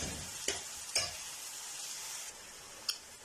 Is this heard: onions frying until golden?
yes